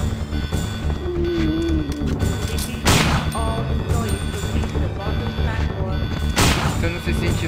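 Two sharp, loud gunshot blasts a few seconds apart over a constant rumbling game soundscape in Resident Evil 2.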